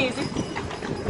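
Carriage horses' hooves clip-clop steadily on the street during a carriage ride through Savannah, close and continuous under a person talking.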